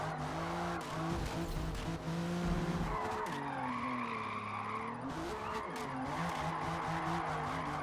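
Drift car tires squealing and skidding in a racing game, with a loud engine drone and long wavering screeches that rise and fall as the car slides, continuing steadily throughout.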